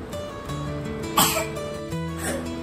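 A child coughs while eating, one short burst near the middle over a steady background hum, fairly close and moderately loud.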